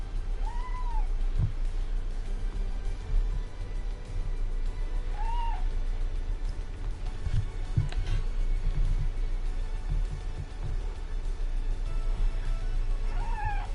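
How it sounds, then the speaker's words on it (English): A cat meowing loudly indoors, three separate drawn-out meows spaced several seconds apart over a low steady background hum, close and clear. "if you meow that loud, everybody's gonna hear you on the mic."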